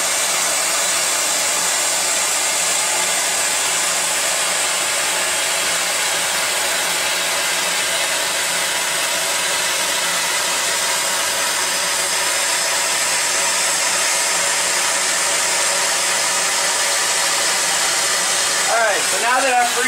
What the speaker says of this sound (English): Now with this, I'm moving fairly fast because all I'm doing is heating up the pipe.